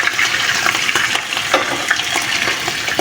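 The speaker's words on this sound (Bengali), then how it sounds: "আমি এটাকে একটু ভেজে নিব আগে হালকা করে" Cut shrimp fry lightly in a pan, making a loud, close, continuous sizzle broken by frequent scraping stirs.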